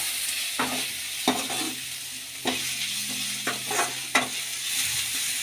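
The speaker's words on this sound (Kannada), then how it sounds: "ಸೌತೆಕಾಯಿ ಚಿಪ್ಪೆನ ಚೆನ್ನಾಗಿ ಹುರ್ಕೋಬೇಕು" Cucumber peel is stir-fried in a pan: a soft sizzle runs throughout, broken by several sharp spatula scrapes at uneven intervals, close and fairly quiet.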